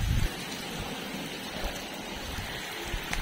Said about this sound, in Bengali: আজকে এরকম তুফানি বৃষ্টি শুরু